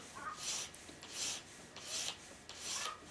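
A HandSharp sharpener rasps along a knife blade in four steady, rhythmic strokes while raising a burr, each pass a bright, gritty scrape with short pauses between, close and alone.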